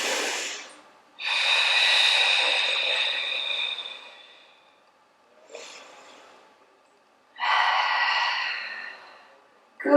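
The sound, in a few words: deep breathing during arm stretch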